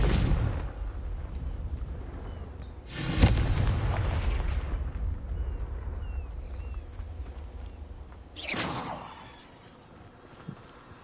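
Two booming spell explosions from the Confringo fire spell in the Hogwarts Legacy video game, each a sudden loud blast with a rumbling tail, the second several seconds after the first over a low background.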